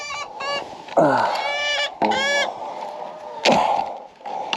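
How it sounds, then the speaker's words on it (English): Chickens outdoors on top of their chicken run squawk and cackle in loud, harsh bursts, several overlapping calls over a few seconds, with a person's voice mixed in. "Chickens!"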